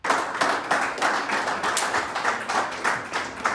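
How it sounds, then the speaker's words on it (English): A crowd claps steadily in a played video, a dense, even patter of applause at moderate distance with no pauses. "they're clapping because he lived at a golf course for 99 days."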